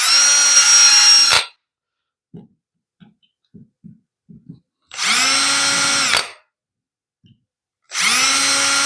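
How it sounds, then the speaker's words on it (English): A power drill whirs loudly in three bursts as it drills pilot holes into wood, with quiet clicks and taps in the pauses between. "Now I don't have to drill these all the way."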